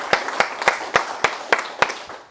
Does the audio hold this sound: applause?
yes